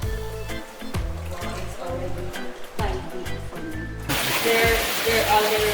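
Water sloshing and splashing in heavy rhythmic surges as someone wades through knee-deep water in Cantabon Cave, Siquijor, growing louder and more turbulent toward the end.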